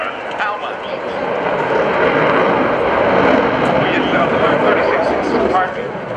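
At an airshow, an F/A-18C Hornet's jet engine delivers a broad, sustained roar of thrust that builds and holds loudly over several seconds, while voices comment over it.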